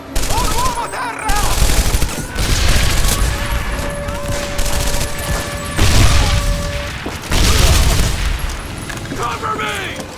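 Rapid bursts of automatic gunfire and explosions from a PS2 war shooter played on an emulator, loud and close, in several dense volleys broken by short pauses, with soldiers shouting orders between the shots.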